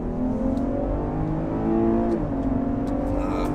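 A Chevy Blazer with a nine-speed transmission accelerates in sport mode, its engine droning steadily and rising slightly in pitch, loud and close throughout with no talk.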